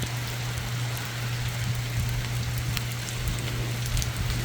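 Heavy rain pours down on surfaces around a Southern California home during a 2023 storm, a dense, steady hiss with scattered drips and a low hum underneath, continuous and close, with no talking.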